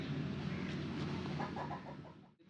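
Near a village animal pen at evening, a rooster's clucking calls form a short series of repeated notes over a steady low rumble of background noise.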